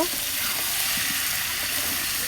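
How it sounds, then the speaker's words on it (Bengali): Goat meat and elephant foot yam stirred in a frying pan, a brief, steady hiss of sizzling with soft scraping underneath, close and even throughout. "নেড়ে চেড়ে নেব।"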